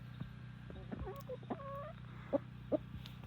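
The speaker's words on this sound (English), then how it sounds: "I'm getting a pile of chickens over here on me." Chickens cluck softly and irregularly inside a homestead chicken run, with a few louder clucks standing out over a steady low background hum.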